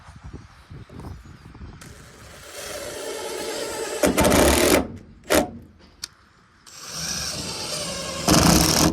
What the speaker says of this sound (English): Now I'm going to screw the bottom one in.